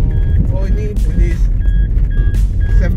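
Mazda 2 seat belt warning chime sounding as short, repeated high-pitched beeps inside the car during a slow drive near a showroom, over rumbling road and engine noise, with people talking.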